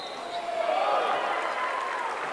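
Steady crowd applause fills a high school boys basketball gym during a game against Edmond Memorial, a dense wash of clapping that holds for a couple of seconds under a commentator's voice.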